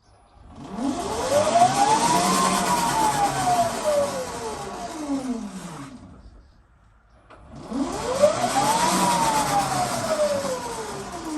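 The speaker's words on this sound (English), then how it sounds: "I can turn the throttle switch and the rear wheel shall be start spinning." Electric motorcycle rear wheel spinning up under throttle on a converted GSX-R, a rising then falling whine swelling twice with a quiet gap between, loud and close.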